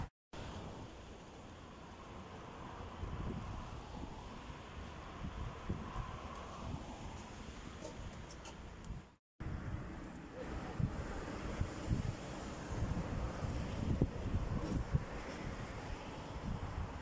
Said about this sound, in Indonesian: Anginnya melambai-lambai. Sepoi-sepoi.